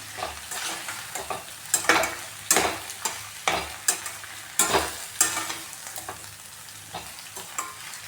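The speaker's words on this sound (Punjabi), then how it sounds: "ਹੁਣ ਪਾਵਾਂਗੇ ਇਹਦੇ ਵਿੱਚ ਪਨੀਰ ਇਹਨੂੰ ਵੀ ਚੰਗੀ ਤਰ੍ਹਾਂ ਮਿਕਸ ਕਰ ਦਵਾਂ" Paneer is stirred into macaroni in a hot pan, a sizzling fry punctuated by repeated scraping strokes of a spoon against the pan, close and rhythmic, roughly one pass every half second.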